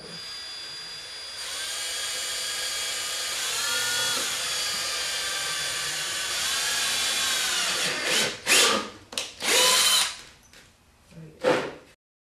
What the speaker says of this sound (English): turn the drill on, and go